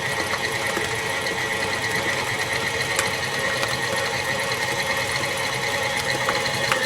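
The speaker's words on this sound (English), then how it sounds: "Put the mixer on low and start adding your flour gradually." An electric mixer runs on low through cake batter for an apple pie cake, a steady whirring motor hum with faint rhythmic ticks, constant and fairly quiet with no talking.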